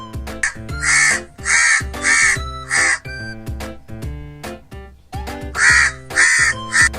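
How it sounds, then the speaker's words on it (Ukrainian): A crow caws repeatedly in harsh, rhythmic bursts, a run of four or five calls, a pause, then several more, loud and close over light music. "Ворона кракає."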